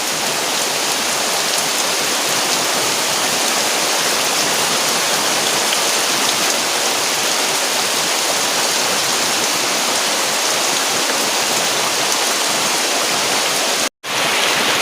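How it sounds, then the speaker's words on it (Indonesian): Heavy rain pours down steadily around a garden hut, a dense continuous roar at a constant loud level with a brief break near the end. "Ini hujannya tambah gede."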